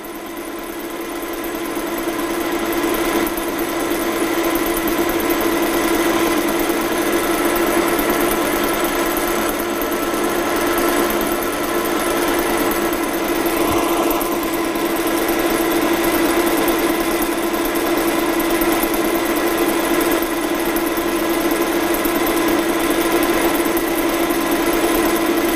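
A lathe runs steadily in a fitting and turning workshop, a loud constant mechanical hum with a strong, even tone and faint rattling vibration, no voices.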